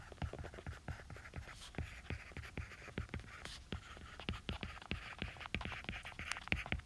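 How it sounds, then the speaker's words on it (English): Pen or pencil writing by hand, working through a physics acceleration problem: a steady run of sharp scratchy strokes and taps, close and fairly quiet, repeating in quick irregular rhythm with no talking. "I'm going to write this down."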